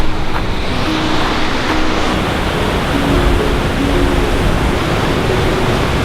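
A waterfall in Central Oregon roars as a loud, steady broadband rush, close at hand, unbroken and without voices.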